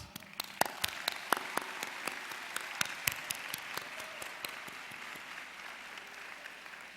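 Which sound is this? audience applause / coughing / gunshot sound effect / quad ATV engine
audience applause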